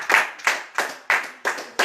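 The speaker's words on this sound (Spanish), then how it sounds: "Dele palmas al Señor, hermano." Church congregation clapping hands during a worship service, six sharp, evenly spaced claps in a steady beat, close and fairly loud.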